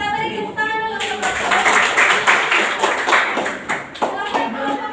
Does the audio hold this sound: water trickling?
no